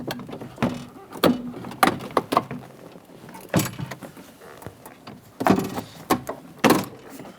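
Plastic retaining clips snap and pop as the rear interior door panel of a 2007-2017 Jeep Patriot is pried away from the door, giving several sharp, irregular cracks close up with rustling between.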